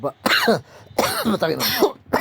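Several harsh, rough coughs in quick succession, loud and close, with throaty rasping between bursts.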